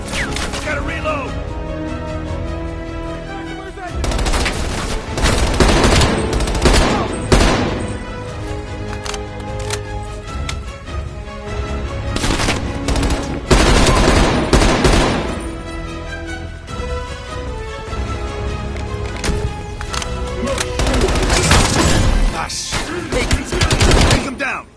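Sustained automatic gunfire and explosive bursts from the Call of Duty Cold War video game on PS5, loud and dense throughout with repeated heavy volleys, overlaid by game music and occasional voices.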